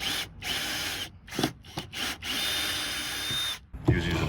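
A power drill backs corroded, stripped screws out of rotten deck boards in loud, close whirring bursts broken by short pauses, ending with a long steady run.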